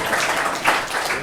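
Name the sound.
round of applause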